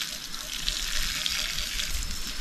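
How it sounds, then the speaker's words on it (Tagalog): Water splashes and hisses steadily onto a calamansi plant as it is watered outdoors, a continuous close gushing spray. "Ang dilig na ito sa kalamansi"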